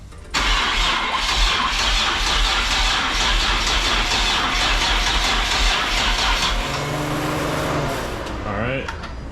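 A 700-horsepower turbo swapped engine cranks steadily and tries to start: a loud, continuous starter churn that goes on for several seconds, then slows and stops, followed by a brief squeal and someone talking.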